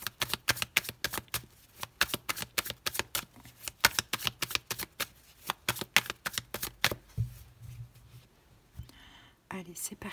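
Tarot cards being cut and shuffled up close: a fast, regular series of crisp card snaps for several seconds, then looser rustling handling as the shuffle ends.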